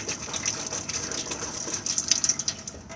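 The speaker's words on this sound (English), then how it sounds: "They'll cough and splutter a bit as they force the air out of the system." Taps in a Coachman Chiltington RS caravan splutter and gush as the water pump forces air out of the system, a steady rushing hiss broken by irregular coughing spurts, close and fairly loud.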